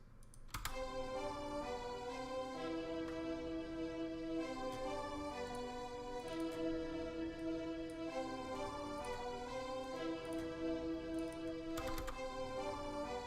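A trap melody built from sustained chords on the Bel Air pad synth in FL Studio, with steady layered harmonic tones holding evenly throughout and no one talking.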